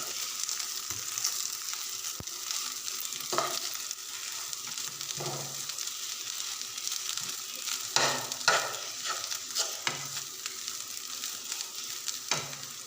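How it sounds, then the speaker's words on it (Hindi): Spices are mixed into potatoes for samosa filling in a hot pan, with a steady sizzle underneath and a spatula scraping through in intermittent strokes, close and fairly quiet, with no talking. "अब हम इन्हें आलू में मिक्स कर देंगे।"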